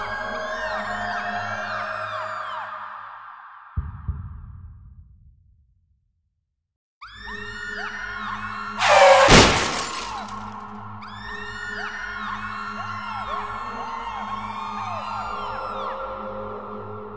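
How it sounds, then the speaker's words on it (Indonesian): A car crash and explosion in a horror film: a sharp shattering bang near the middle, loud and brief, set against a busy music or sound-effects bed, with an earlier crash-like burst that fades into a short silence. "mobil merahnya terjungkir sampai meledak"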